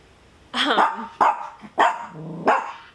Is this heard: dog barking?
yes